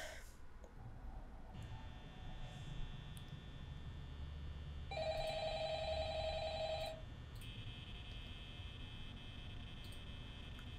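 In the horror video game Five Nights at Freddy's, a telephone rings in electronic bursts over a low ambient hum, with one longer, louder ring in the middle.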